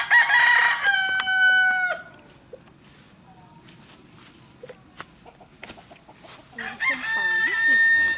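Two loud rooster crows ring out, one at the start and one near the end, with quiet outdoor ambience and faint distant calls between them.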